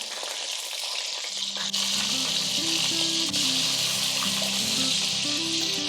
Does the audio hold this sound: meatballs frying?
yes